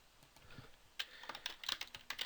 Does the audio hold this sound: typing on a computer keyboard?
yes